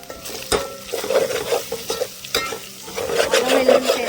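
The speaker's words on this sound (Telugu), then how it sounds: "ఇది బ్రౌన్ కలర్ వచ్చేదాకా నూనెలో వేగనిద్దాం." A chicken curry tempering sizzles in hot oil with turmeric while a spoon scrapes and stirs the pan in repeated close clinks and scrapes, no voices over it.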